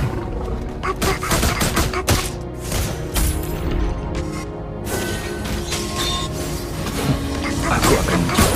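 Rapid bursts of gunfire from the hero Granger in the Mobile Legends game, rattling shots in quick clusters over music and effects, with a brief gap before the firing resumes.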